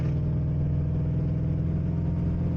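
A 2011 Ford Mustang accelerating on a highway toward 60 mph, with a steady, close engine drone and low-pitched rumble that runs unbroken and fairly loud for the whole stretch.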